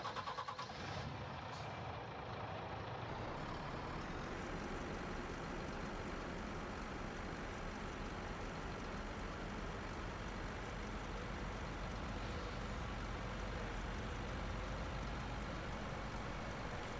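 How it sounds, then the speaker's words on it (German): A truck engine driving in the video game Farming Simulator 19, a continuous low rumbling drone held at steady loudness throughout with no talk. "jetzt starten wir mal mit dem LKW zurück nach Hause"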